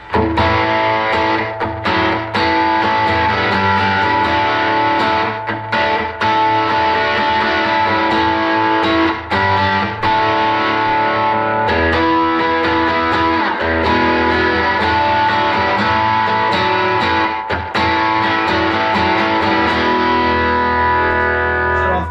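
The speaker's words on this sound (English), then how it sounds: "If I want to kick into overdrive or solo, just get a little heavier." A heavily overdriven electric guitar plays a sustained, thick riff and lead lines for a long stretch, loud and saturated, with no voices.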